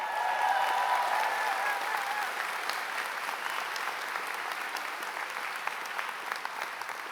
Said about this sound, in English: I just knew she'd get her own applause